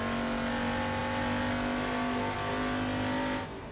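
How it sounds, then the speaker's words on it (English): A racing car engine in the Assetto Corsa sim game screams at high, steady revs while over-revving, a loud sustained whine that holds for several seconds and then drops off abruptly near the end. "we over-revved it a bit"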